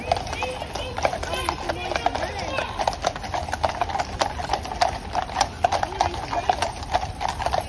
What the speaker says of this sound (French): Ils sont magnifiques ces chevaux, hein.